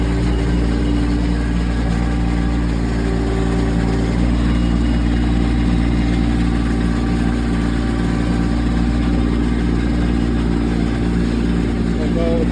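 A 2024 Kubota LX2620HSD hydrostatic compact tractor's diesel engine runs steadily and loud nearby, a constant mid-pitched drone with slight variation as the hydraulic bucket lifts.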